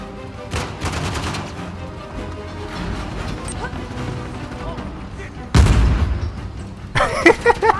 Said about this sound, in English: This machine gun is nice.